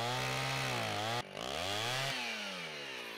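Saw cutting branches off a wooden bench built from log trunks at a camp in Sweden: a loud, steady motor whine that dips and rises in pitch as it bites, with a brief cut-out partway through.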